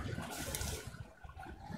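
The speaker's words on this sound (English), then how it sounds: "Waterfall from El Tigre's photo." Rushing water from a waterfall in the Far Cry 6 video game, a steady broadband wash that continues without a break through the whole stretch with no talking.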